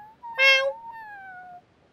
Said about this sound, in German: das ist die Katze mit den Flügeln.